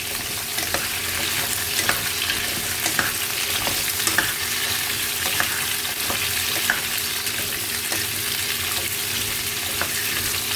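Washed pumpkin pieces fry loudly in a pan under a constant, close sizzle, with regular stirring strokes scraping through it and no speech.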